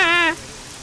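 Rain falls steadily as a soft, even hiss in the background, briefly overlapped at the start by a short, high, tonal squeak.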